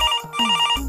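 A telephone rings alone in a short, clear electronic ringtone with a repeating tonal pattern, in a home comedy sketch.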